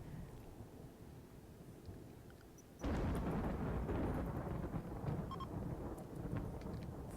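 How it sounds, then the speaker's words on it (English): Thunder from a flash storm in the game RimWorld, a low rumbling bed that suddenly swells into a loud, sustained roar and rolls on for several seconds. "Flash storm is over."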